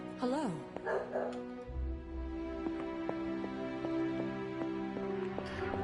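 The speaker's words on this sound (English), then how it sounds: "Dog just barking." A dog barks in repeated sharp yips at a steady rhythm over a musical background, with a brief whine at the start and a voice talking early on.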